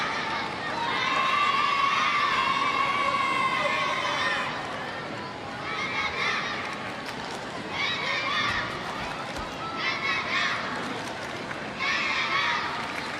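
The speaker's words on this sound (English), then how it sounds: "Contingent of school children, I think, cheering along their fellow French speakers." School children cheer from the stands of a Paralympic boccia arena during a bronze medal match, a broad high crowd roar rising and falling in waves under a commentator's voice.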